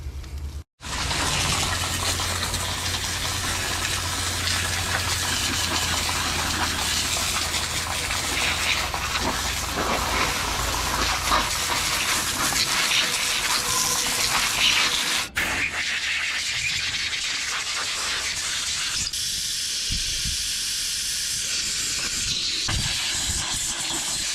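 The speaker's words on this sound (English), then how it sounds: "We are gonna wash it with water, and then you know, get this thing all nice and clean for the reinstallation." A car's AWD transmission being washed down with water, a steady broadband spray hissing almost continuously and close up, with a brief break near the start and a change in tone toward the end.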